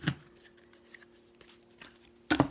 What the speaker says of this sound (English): I'm going to just do a quick shuffle real quick.